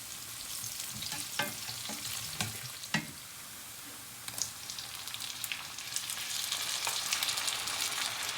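Eggs cooking slowly in a pan for a Persian-style breakfast, a soft, even sizzle that builds slightly, with occasional utensil taps and scrapes, no talk.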